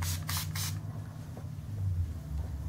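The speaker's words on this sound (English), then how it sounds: "I also have the setting spray, the Urban Decay" Three quick hissing bursts of Urban Decay makeup setting spray, close and evenly spaced, over a low steady background hum, then only the hum remains.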